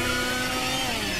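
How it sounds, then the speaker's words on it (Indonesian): A chainsaw in the video game The Boo Men drones steadily and loudly in a short, continuous burst with a rough buzzing tone and no pauses. "Siapa tuh di gergaji itu?"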